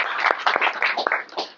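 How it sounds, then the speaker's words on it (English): An audience applauds a year's all-time captain at an early-morning team gathering, steady clapping filling the whole short stretch at a moderate, fairly close level. "Everybody give a big round of applause."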